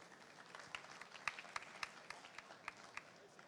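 A conference audience at a start-up pitch final claps faintly, with scattered, distinct hand claps spread unevenly over a quiet background rather than a full ovation.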